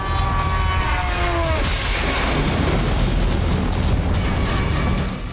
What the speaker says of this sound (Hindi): कीव में जोरदार धमाका हुआ। यह रूस की किंजल मिसाइल थी।